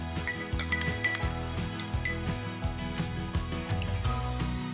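Spoon stirring sour cream into milk in a glass jar, a rapid series of clinks and taps of metal against glass, louder at first then settling into steady softer scraping.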